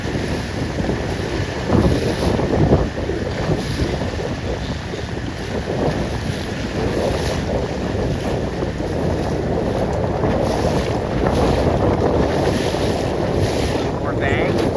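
Strong wind gusting over a sailing dinghy racing on open water, a steady roar of wind noise on the microphone with water slapping the hull, swelling in a heavier burst near the start and staying loud throughout.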